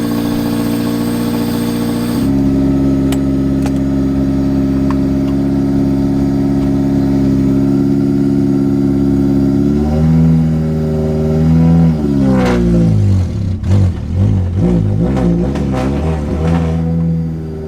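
Honda Sol car engine idling steadily as it warms up, then a shift in pitch and a series of loud, uneven revs rising and falling near the end, close and alone with no talk.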